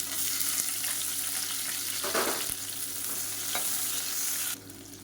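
Sliced onions sautéing in a pan with salt, cinnamon, cardamom and cloves for a Tamil white salna, a steady close sizzle with a few stirring scrapes, ending slightly quieter.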